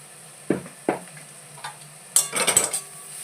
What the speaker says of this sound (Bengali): পেঁয়াজটা এখন অনেকটা ভাজা হয়ে এসছে।